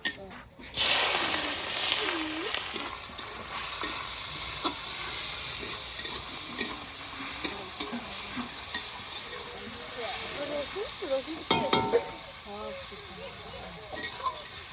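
Spice tempering and chopped onion frying in oil for a meat curry, a continuous loud sizzle and hiss with occasional stirring clatter, close by, with some talk underneath.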